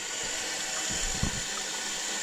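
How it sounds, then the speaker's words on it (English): Water runs steadily from a hose on a tractor during planter fixes on a farm, a continuous rushing flow that stays fairly even throughout. "But you got water flowing, and if we shut it off,"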